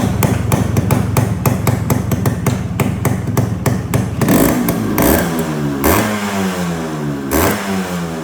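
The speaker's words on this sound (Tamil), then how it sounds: "இப்போ இந்த வண்டியோட பிட் சவுண்ட் கேட்கலாம் வாங்க." A black Yamaha RX100 two-stroke motorcycle engine runs up close and alone, first with a rapid, steady beat, then revving up and down in several rising and falling blips.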